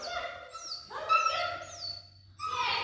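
A dog at a jumpers agility course whimpers and yips in short, high, wavering cries, close by and moderately loud, with no speech.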